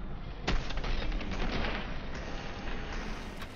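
Gunshots in the video game Resident Evil 4: a sharp report rising out of a dense, rumbling layer of gunfire, with further muffled shots following, moderately loud and steady, with no voices.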